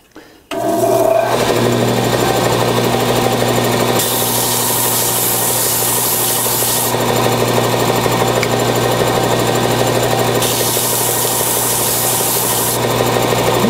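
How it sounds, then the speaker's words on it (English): A belt sander runs loud and steady close by after a brief start-up, a constant motor whine and abrasive rasp as burn marks are sanded off the fronts of wooden table numbers. "Then I'm not going to sand the back, just the front of them, just to get that burn off of there."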